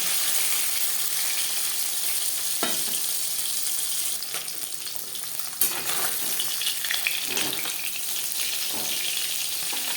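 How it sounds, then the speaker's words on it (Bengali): Koi fish sizzle and crackle as they fry in hot oil in a home kitchen, a steady bright hiss with occasional louder spits and stirring clatters, no voices. "মাছ ভাজা হয়ে গেছে"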